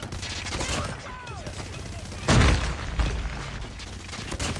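Light machine gun fire in a Call of Duty ranked Hardpoint match, heard as a steady clatter of shots under game noise with one louder close blast partway through.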